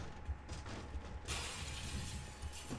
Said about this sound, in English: Yeah, there's some glass shattering sound effects.